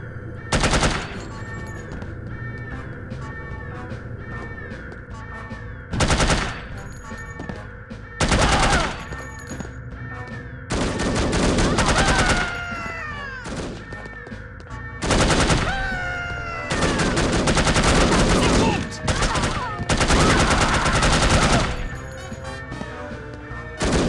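Automatic gunfire from a weapon in the PC shooter No One Lives Forever, with repeated loud bursts of varying length cutting in over steady game music and background effects.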